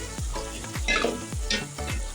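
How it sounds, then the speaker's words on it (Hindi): Potatoes stirred into lightly cooked onions in a hot pan for aloo korma: a steady oily sizzle broken by repeated scraping stirs of the spoon, close and fairly loud, with no talking. "अब इनमें मैं आलू ऐड कर लूँगी। अच्छे से मिक्स कर लेंगे"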